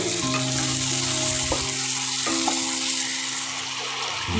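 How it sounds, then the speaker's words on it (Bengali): Tomatoes frying with chopped onion and ginger-garlic paste in a pan, a loud continuous sizzle close by with a couple of brief stirring clinks. "তারপর টমেটো দিয়ে দিলাম টমেটোগুলো ভালো করে ভেজে মুছতে দিয়ে দেবো"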